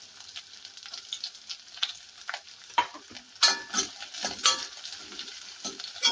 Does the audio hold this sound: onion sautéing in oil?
yes